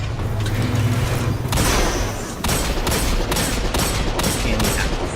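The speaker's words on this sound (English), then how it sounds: "hand cannon to the head makes pretty short work of this" Hand cannon gunfire rings out in Destiny 2 as a series of loud, close shots, first spaced and then in a quicker volley, each crack followed by a short ringing tail over steady game background.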